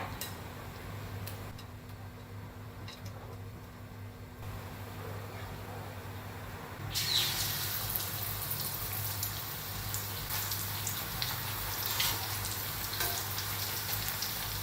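Pork strips coated in a cold-water batter deep-fry in oil over medium-low heat, a soft steady sizzle and crackle that grows noticeably louder and busier halfway through, with no voices.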